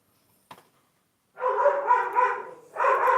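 Dogs give a brief sharp sound, then two sustained bursts of barking or howling that are loud and close, with no talk between them.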